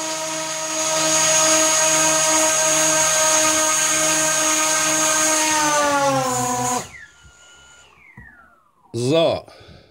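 A battery-powered Zino drone is held firmly and run at full throttle, its rotors giving a loud, steady high whine with strong harmonics for about seven seconds before spinning down, followed by quiet handling noise and a brief rising burst.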